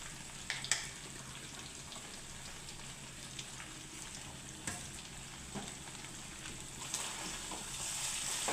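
Curry leaves and spices fry in oil for a chicken curry, a soft continuous sizzle with scattered pops and crackles, some sharp spatters standing out, heard close but fairly quiet with no talking.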